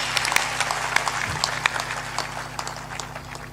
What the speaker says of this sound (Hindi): ताली बजाकर उनका अभिनंदन करें